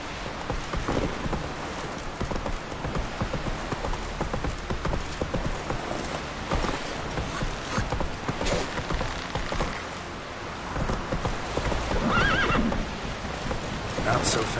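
Roach the horse gallops with rapid rhythmic hoofbeats and lets out a neigh in The Witcher 3, with rain hissing in the background and a voice speaking over the action.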